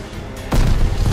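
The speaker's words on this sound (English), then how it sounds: "Tossing grenade." Grenade blast in Call of Duty Vanguard Domination multiplayer, a short quiet lead-in followed by one sudden loud boom that rumbles on to the end.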